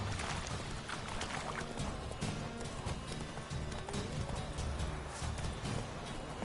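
Roach, the horse in The Witcher 3, galloping with a steady rhythmic clip-clop of hooves under dense game ambience, moderately close, no talk.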